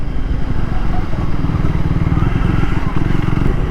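A Triumph Tracker 400 scrambler-style motorcycle being ridden, its engine thrumming steadily and close with a low, even rumble under a rider's voice.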